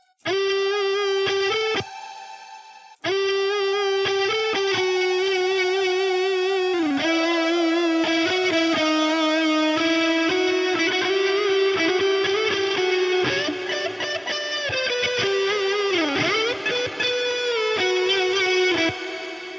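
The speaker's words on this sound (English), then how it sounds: "beautiful, beautiful sounding reverb by Linda Audio" A loud synthesizer plays sustained, shifting organ-like notes drenched in a lush reverb plugin effect, with a brief pause early on and no talking.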